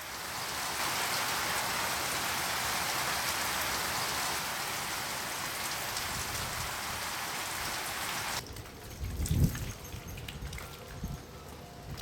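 Heavy rain pours in a steady, dense hiss for most of the stretch, then drops off sharply to quieter ambient outdoor sound with a few low thumps near the end.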